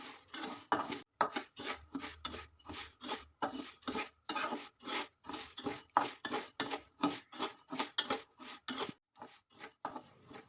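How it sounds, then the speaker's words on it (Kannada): Dry rice roasts in a pan while being stirred continuously. Steady, rhythmic scraping and rubbing strokes repeat quickly, about two or three per second, close up and alone. "ಇವಾಗ ಅಕ್ಕಿ ಹುರಿಯುವಾಗ ನಾವು ಈ ಥರ ಕೈ ಆಡಿಸ್ತಾನೆ ಇರಬೇಕು"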